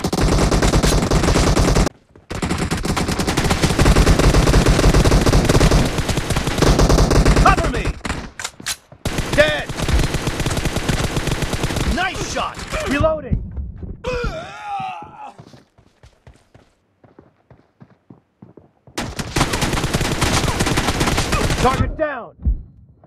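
Sustained automatic gunfire in a Battlegrounds Mobile India team deathmatch, long loud rattling bursts broken by brief pauses and a quiet stretch near the end, with faint game voice callouts.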